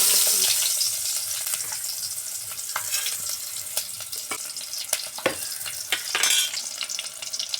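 Onions sizzle and crackle steadily in a hot pan for a North Karnataka chicken gravy, with occasional sharp pops and the scrape of stirring throughout.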